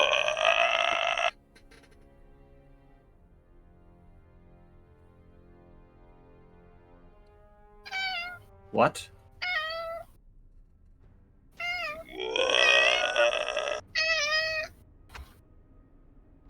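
A cat meows loudly and repeatedly in bursts, with long drawn-out cries and short calls spread across several seconds, mostly alone with a brief spoken question and quiet gaps between.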